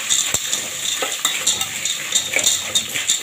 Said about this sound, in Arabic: معايا هنا فلفل حامي وبارد وفلفل الوان، هنزل كده على المكرونه، هديهم كده تشويحه مع بعض